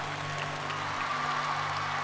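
Studio audience applauding for a singer and a challenger on a televised singing show, a steady, dense wash of clapping that holds at an even level throughout.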